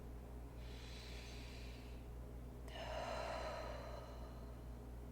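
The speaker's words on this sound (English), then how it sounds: "go ahead and take a really deep breath in." A really deep breath drawn in during a New Year meditation, two soft close airy inhalations, the second longer and fuller, heard alone over a low steady hum.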